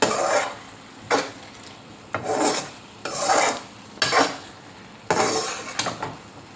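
Cooked ridge gourd being mashed in a pan with a utensil, heard as about six rhythmic rasping, scraping strokes with short quiet gaps between them, close and moderately loud with no talking.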